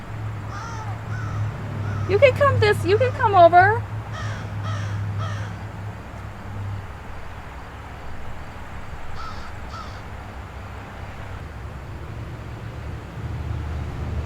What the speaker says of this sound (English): There's a crow.